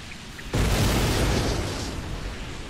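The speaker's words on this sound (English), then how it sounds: "White screen to express a large explosion." A large explosion in the video game Persona 4 Golden, a sudden loud booming burst that rolls on as a sustained roar without fading out, no voices.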